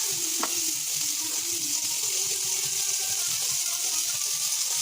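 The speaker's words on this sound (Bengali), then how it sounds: "জল ঝরিয়ে রেখেছি সোয়াবিন, এগুলো তেলে দিয়ে দেব।" Drained soybean chunks fry in hot oil with a steady, close sizzle and light bubbling. One quick clink sounds near the start.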